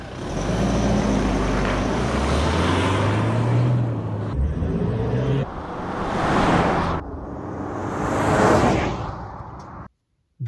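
A Toyota Fortuner's engine accelerates hard in power mode, a loud rising roar that climbs through the gears with brief dips between shifts before cutting off.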